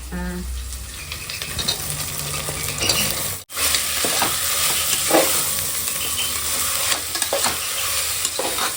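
Tomatoes dropped into a hot frying pan, bursting into loud continuous sizzling and crackling, with stirring scrapes and utensil clinks and a brief cut near the middle.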